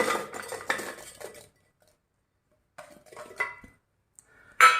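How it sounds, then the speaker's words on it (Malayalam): Apple pieces dropped into a mixer grinder jar, heard as a few short clattering knocks and a clink, with quiet gaps between them. "മിക്സിയുടെ ജാറിലേക്ക് നമുക്ക് ഈ ആപ്പിൾ ഇട്ട് കൊടുക്കുക."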